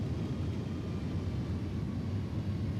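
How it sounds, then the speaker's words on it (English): Steady engine drone of an iniBuilds A300F freighter approaching to land in X-Plane 11, a constant low rumble with no breaks or voices. "it is time to land the plane"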